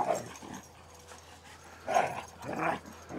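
Two sibling dogs playing rough, giving short whining growls and yips in bursts at the start and near the end, moderately close with quieter gaps between.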